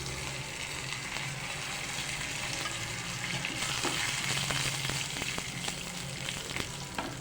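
Finely chopped curry leaves sizzle steadily in hot oil over a slow flame while a chicken vegetable kabab mixture is being prepared, a continuous close frying hiss with light crackles and no voices.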